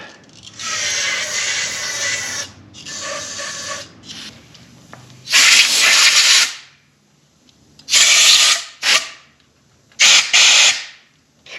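Bursts of pressurized spray hiss while a fuel rail is flushed out during work on a long-stored Pontiac Trans Am, loud blasts of a second or so separated by quiet gaps, the last few short and sharp.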